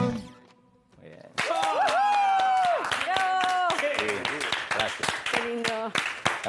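After a quiet start, loud applause from a live audience breaks out following a tango performance in Montevideo, with sharp individual claps over sustained clapping, while a voice speaks and sings over it.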